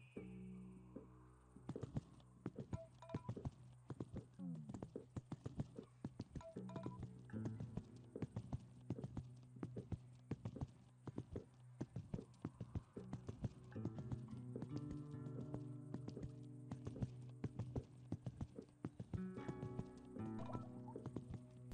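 Hooves of the horse Milton clop steadily in Equestrian the Game, a fairly even walking rhythm of crisp hoof falls that carries on throughout over a soft music bed, with no talk.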